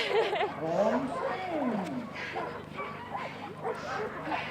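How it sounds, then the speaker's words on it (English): Dog at a bikejoring race in Thetford Forest, giving yelping, whimpering calls through the clip, fairly close, mixed with outdoor bustle and people talking nearby. "You've got a smashing dog there."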